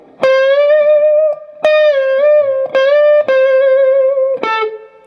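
Electric guitar playing the third section of the second solo of a song: five bent, sustained lead notes picked one after another, singing and close, each held before the next attack, alone without talk.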